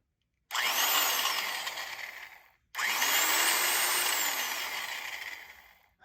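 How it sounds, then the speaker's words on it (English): A power drill with a small vent screen underneath whirs hard in two bursts, about two seconds and then three and a half seconds long, with a brief stop between, loud and close with no talking. "This is just a great drill, isn't it?"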